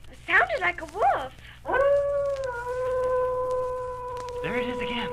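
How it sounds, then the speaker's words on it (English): A dog howls down the street in one long, steady, drawn-out wail, loud and clear, with short yelping vocal bursts just before it and more brief barking-like calls at the end. "Probably a dog down the street howling."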